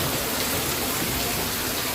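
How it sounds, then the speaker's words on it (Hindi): Heavy rain falls steadily, a dense unbroken hiss of water striking surfaces close by, with no talk. "बहुत तेज़ बारिश हो रहा है, बहुत ज़्यादा बारिश में मतलब पानी गिर रहा है।"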